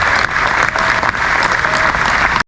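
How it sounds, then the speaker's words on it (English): Loud, dense applause from an outdoor crowd at a bass fishing Hall of Fame induction at Lake Mohave, steady clapping for a couple of seconds before cutting off abruptly. "Round of applause again for Mike Folkstad."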